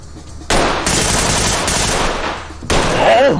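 Sustained, loud automatic gunfire from the tactical shooter game Ready Or Not hammers on for several seconds, with a brief dip before a fresh burst. No one talks over it.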